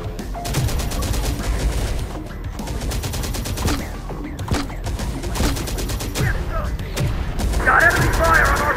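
Enemy gunfire in the video game Terminator: Dark Fate Defiance rattles in rapid automatic bursts, with repeated heavy shots and booms over several seconds, loud and close, while voices talk over the battle noise.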